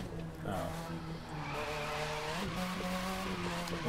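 Car drifting in The Crew 2, engine whine rising and falling under long tire squeal, continuous and close, with a voice faintly in the background.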